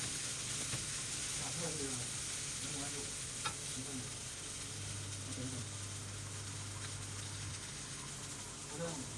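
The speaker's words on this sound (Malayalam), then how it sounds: "അത് ചെറുതായിട്ട് അരിഞ്ഞ് നമ്മൾ ഇതുപോലെ വഴറ്റിയെടുക്കണം" About ten small shallots, finely chopped, sauté in a pan as the base for an Angamaly-style mango fish curry with coconut milk, giving a steady, soft sizzle with occasional stirring scrapes throughout.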